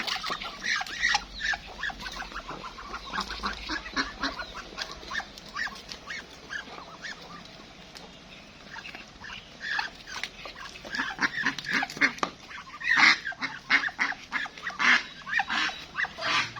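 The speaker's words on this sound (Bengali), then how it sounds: "আমার তিতির পাখি, সাদা চীনা হাঁস, কালো চীনা হাঁস, দেশি হাঁসটা ডিমে বসছে, সবাই খাচ্ছে" White and black Chinese ducks, local ducks and guineafowl feed together on a farm, with repeated quacks, honks and sharp calls in bursts over a busy background of pecking and rustling.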